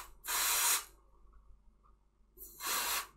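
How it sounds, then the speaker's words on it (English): A spray can hisses onto a cake in two short bursts, each about half a second long, with a quiet pause between them, close and clear. "give it a quick spray"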